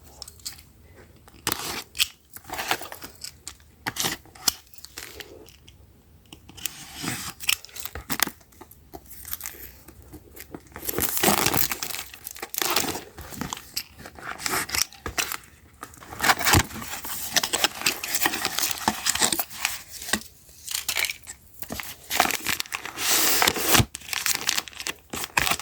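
A new DJI camera package is unwrapped and opened up close, with bursts of crinkling plastic, rustling packaging and scraping handling noises that grow louder and busier in the second half.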